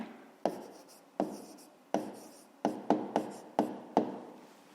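A pen writes an answer on paper in about eight short, crisp strokes close up, each a quick scratch in a quiet room.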